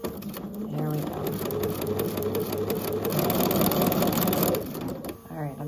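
A sewing machine runs steadily, stitching a quilt block seam at a quarter-inch allowance, its close, even motor whir continuing for about four seconds before stopping, with a voice speaking over the start and end.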